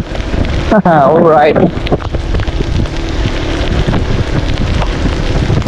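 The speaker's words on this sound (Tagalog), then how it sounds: "Malakas ang ulan." Heavy rain and gusting wind batter a boat on Taal Lake, a dense hiss of rain with buffeting wind against the microphone, loud and continuous, as someone speaks briefly near the start.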